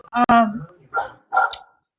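A dog protecting the door gives three sharp barks in quick succession, loud and close, the first strongest, in a quiet indoor setting.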